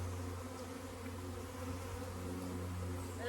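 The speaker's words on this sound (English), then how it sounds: "Catch all these flying bees." Honey bees from a laying-worker colony swarm around their hive in a continuous, close, droning buzz that stays level and unbroken, with no talking.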